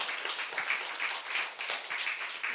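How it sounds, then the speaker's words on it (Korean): A church congregation claps together in a sustained, fairly quiet patter of many hands, steady and unbroken with no talk. "박수로 올려드리는 겁니다"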